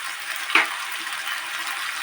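Spice masala fries with green potato in a pan, a steady soft broadband sizzle with one brief stir scrape near the start, and no talking.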